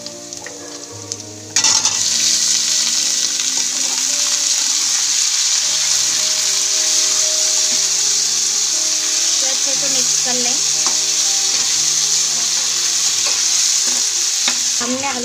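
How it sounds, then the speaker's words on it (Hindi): Potatoes sizzle loudly in a hot pan with green chilies while a spoon stirs them, a dense continuous frying hiss with scraping strokes, starting after a short quieter moment. "हमने आलू को अच्छे से मिक्स कर लिया है।"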